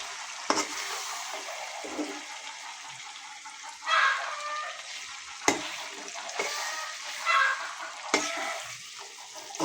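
Pieces of beef head meat fry in a pan for a spiced bhuna, with soft sizzling that swells in a few bursts alongside intermittent scraping stirs, fairly quiet and close with no talking.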